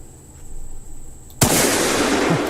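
A single loud Winchester rifle shot bursts out sharply after a quiet stretch, its broad blast lingering into a sustained noisy roar.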